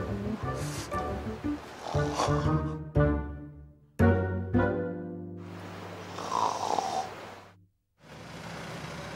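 Someone snoring loudly in an Indonesian television drama scene, with several rasping, rumbling breaths separated by brief pauses and a short silence near the end.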